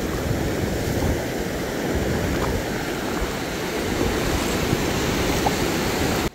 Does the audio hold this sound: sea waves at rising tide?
yes